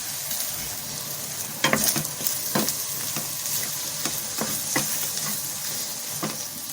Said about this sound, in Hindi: इसको भी कंटिन्यू चलाते रहना है और फ्लेम को हाई रखना है।